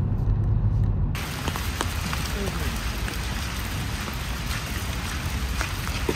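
Rain falls steadily in Germany, a dense patter with scattered drop taps across the whole stretch, loud and close, with wind-like noise underneath.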